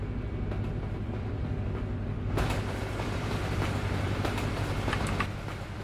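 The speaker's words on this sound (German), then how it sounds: "Oh, da ist ein Zug." A train rolling past in Euro Truck Simulator 2, a continuous low rumble with rattling clatter that swells louder halfway through and stays dense to the end.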